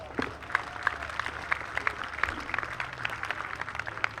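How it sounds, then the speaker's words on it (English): Crowd applause at a summer collegiate baseball game between the Newport Gulls and Danbury Westerners, scattered outdoor clapping at moderate distance with individual sharp claps standing out over a low background hum. "let's give him a round of applause"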